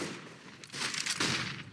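Bursts of AK rifle fire from Counter-Strike on the Dust II map during a pro esports match, rapid crackling shots at moderate distance, fairly quiet and steady over the clip.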